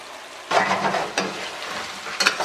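Curry stew chicken wings sizzling hard in an open pot over high heat as the braising liquid cooks off, a loud bubbling hiss broken by a couple of spoon or stirring clatters.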